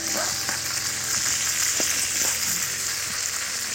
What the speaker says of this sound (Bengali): এই দেখুন মাছ ভাজা হয়ে গেছে কমপ্লিট।